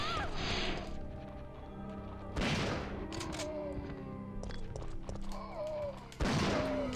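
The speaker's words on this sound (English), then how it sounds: "Explosion." Explosions from the PS3 game Resident Evil 3 hit as two loud, sharp crashing bursts several seconds apart, over a busy mix of gunfire-like game sounds and a faint voice.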